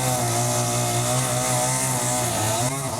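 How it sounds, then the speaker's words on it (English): String trimmer running close by with a loud, steady high-pitched motor whine that holds for the whole stretch, with no voices over it. "weed whacker's coming by"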